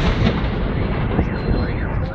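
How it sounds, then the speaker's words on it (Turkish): A burning truck sets off a rapid series of loud, booming blasts and crackling bangs that keep rumbling on top of one another, with a voice heard faintly under the din. "Tırda meydana gelen patlamalar amatör bir kamerayla kaydedildi."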